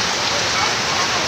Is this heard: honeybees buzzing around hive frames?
no